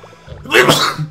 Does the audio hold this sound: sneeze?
yes